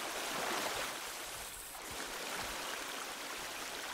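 A flowing stream in the survival video game The Forest gives a bright, steady rush of water, constant and fairly loud throughout, heard alone without voices.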